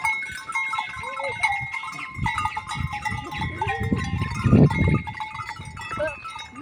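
Goats and other livestock bleat at a farm in the caatinga, several calls overlapping at moderate distance, with a louder burst near the middle and a faint bell-like clink in the background.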